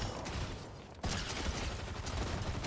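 A pump shotgun blasts in a video game, a single loud, broadband boom that jumps in suddenly and then rings on as a dense, sustained roar.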